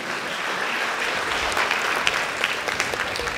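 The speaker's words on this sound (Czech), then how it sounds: "Zatleskajte si vy." Audience applause filling a hall at a summer musical school event in Holíč, a steady dense clapping that holds throughout with a few sharper claps standing out near the end.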